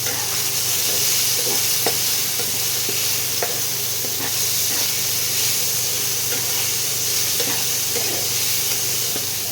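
Tomatoes fry with a little salt in a pan for a poppy-seed and kohlrabi curry, giving a steady close sizzle with scattered pops and light stirring clicks throughout, no voices.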